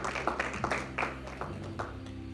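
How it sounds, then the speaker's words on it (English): A congregation at a church Bible study claps in a steady, quick rhythm of sharp hand claps, layered over sustained music with low tones, fairly close and moderately loud. "Let's give God a hand clap"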